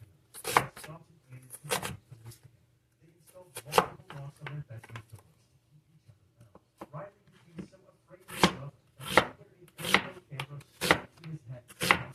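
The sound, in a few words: knife cutting mushrooms in half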